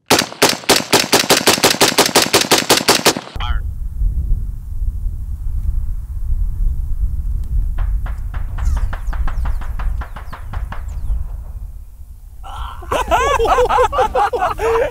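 Suppressed 5.56 rifle fired at an outdoor range, heard as a rapid burst of sharp, evenly spaced cracks, followed by windy ambience, a further run of quieter snapping reports and voices talking near the end.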